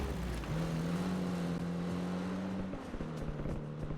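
An engine drones steadily while driving a car in the video game Warzone, a sustained low hum with a rising tone that holds then dips near the end, close and continuous.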